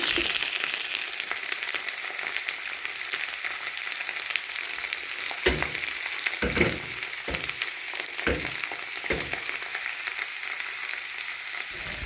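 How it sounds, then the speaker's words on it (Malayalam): Mustard seeds crackle and pop in hot oil while whole garlic cloves fry, a steady dense sizzle broken by several sharp, loud crackling bursts near the middle, with no voices, while kanthari chilli pickle is made Kerala style. "കടുകൊക്കെ നല്ലപോലെ പൊട്ടിക്കഴിയുന്ന സമയത്ത് നമുക്കിതിലേക്ക് വെളുത്തുള്ളി ചേർത്ത് കൊടുക്കാം"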